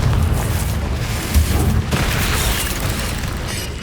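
The Confringo blasting spell explodes in Hogwarts Legacy, a continuous loud rumbling boom with crackling debris that swells and holds for a few seconds, heard alone.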